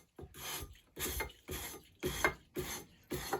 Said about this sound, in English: So we are dragging the sandpaper towards us, away from the tool.